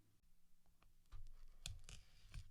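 Scissors or a blade snip and scratch through a Uno card deck box, a few faint quiet cuts and rustles clustered in the second half, close up.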